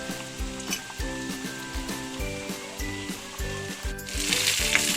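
Onions sizzle steadily in hot oil in a pan for a home fish curry, the frying heard under a repeating background melody, with a louder burst of hiss near the end.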